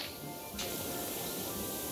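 A pressure washer sprays steadily in PowerWash Simulator, a constant hiss that jumps louder about halfway through and keeps going without a break.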